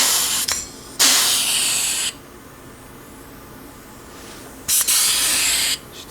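An ATD pneumatic rivet gun running on about 90 to 110 psi of compressor air sets a 1/4 inch rivet, giving two loud, sharp bursts of air hiss, each about a second long, separated by quiet.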